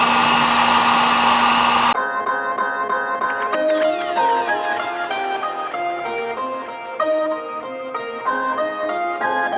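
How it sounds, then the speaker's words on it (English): A heat gun blows with a loud, steady airy roar on a car fender to loosen its adhesive. It runs for about two seconds, then cuts off abruptly as music takes over. "So I'm gonna put a heat gun on it and see if I can heat it up enough to just kind of pull it off."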